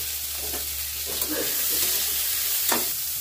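Chopped chilli and onion fry in hot mustard oil in a wok, giving a loud, continuous sizzle with a few brief stirring scrapes, no voices.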